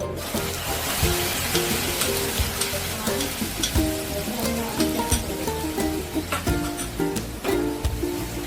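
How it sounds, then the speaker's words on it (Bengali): Tomato paste hits a dry-roasted spice tempering in an oil-free Bengali potato curry, giving a steady crackling sizzle with light stirring scrapes throughout, close and continuous. "ফোড়নটা রোস্ট হয়ে গেছে, এবার আমি টমেটো পেস্টটা দিয়ে দিচ্ছি।"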